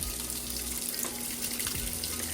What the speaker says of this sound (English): So it's filling up with water.